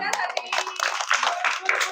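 An audience claps for a child, with a burst of scattered hand claps mixed with voices talking over it.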